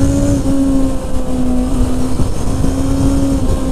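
A Honda CBR650R motorcycle engine accelerates, captured from a microphone under the rider's helmet, a steady loud high-pitched whine with rising revs and wind rumble throughout, no talking.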